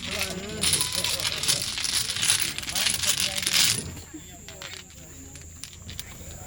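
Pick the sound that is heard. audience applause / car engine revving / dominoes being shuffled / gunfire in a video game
dominoes being shuffled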